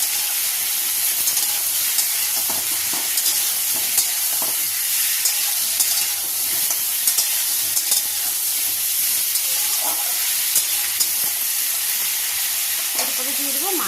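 Pumpkin pieces and green chillies frying in a pan with black cumin, a steady sizzle and hiss running throughout, broken by occasional light clicks and scrapes of stirring.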